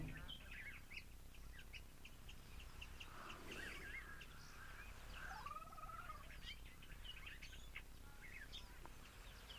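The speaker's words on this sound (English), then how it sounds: "Some lovely doves calling, starlings" Doves and starlings calling outdoors, faint and distant, with scattered chirps, whistles and warbling phrases over a low background hum.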